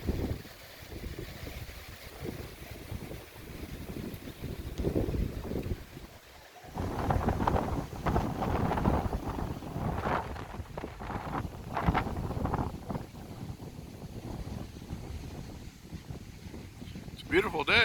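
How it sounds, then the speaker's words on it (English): Strong, dusty summer wind gusts across an open farm, roaring and buffeting the microphone in uneven surges that swell and ease over the whole stretch. "Again, we have wind."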